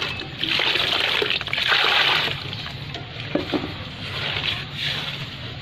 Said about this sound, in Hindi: पानी एक जग होर इहदे शामिल कर देंगे।